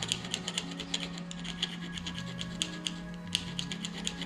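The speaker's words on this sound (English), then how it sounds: "It's going to be a little bit of a challenge to work with as far as sanding and smoothing and those sorts of things" Hand sanding of a 3D-printed nylon parking brake handle gives repeated short scratchy rasping strokes in a steady rhythm, close and fairly quiet, over a low constant hum, with no talking.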